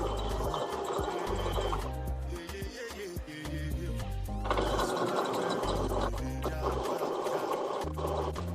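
Zigzag stitching on a sewing machine for a Minnie bow sweatshirt, imitating a serger edge: a continuous close motor whir with a rapid mechanical needle rhythm that shifts speed midway.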